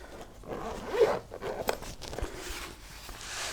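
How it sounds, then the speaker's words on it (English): A carrying case for an Autel Autolink AL619 scan tool being unzipped, one drawn-out close zipper rasp followed by soft handling rustles. "And just unzip it."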